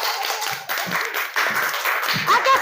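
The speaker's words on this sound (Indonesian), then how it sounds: "Tepuk tangan dulu." Schoolchildren clap together in a classroom, a bright, uneven burst of hands with short gaps, close and fairly loud, with voices and chatter mixed in.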